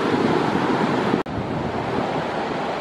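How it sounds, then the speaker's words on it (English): Ocean waves break on the shore at Umzumbe, a continuous loud wash of surf with wind rumbling across the microphone and a brief dropout partway through. "There's a set of waves at the back there."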